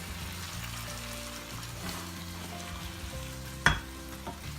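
Tomatoes fry and get stirred in a pan for a roasted eggplant bharta, making a soft, steady sizzle under scraping spoon strokes, with one sharp clatter near the end.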